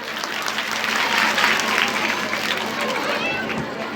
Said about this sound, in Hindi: एक बार ताली बजा दें जोर से।